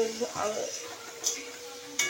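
Taro stolons (lati) with turmeric and crushed garlic are stirred as they fry in a pan, faint sizzling broken by a few sharp spatula taps and scrapes on the metal.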